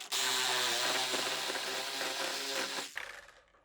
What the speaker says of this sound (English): cut the piping off so that you can actually use the reaming tool